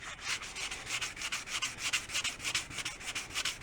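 A snare drum shell is hand-sanded with sandpaper to even out putty-knife scratches after paint removal, producing rapid rhythmic back-and-forth rasping strokes, close and moderately loud, with no voice.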